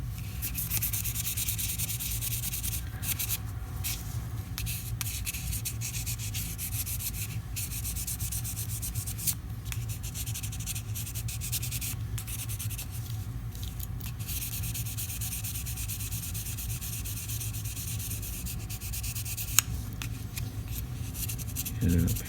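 Steady, continuous rubbing of 1000 grit sandpaper on a Victorinox Executive knife blade, close and even in level across the whole stretch with small shifts in stroke and no talking.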